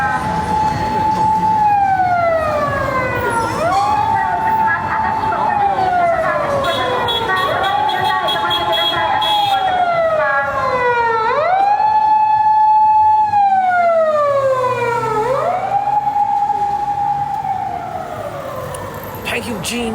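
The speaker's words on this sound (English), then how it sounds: "Was that a Toyota Corolla police car?" A police car siren wails loudly through a Fukuoka street at night, its rising and falling sweeps repeating steadily for the whole stretch as the vehicle passes close by, with a faint murmur of street noise beneath.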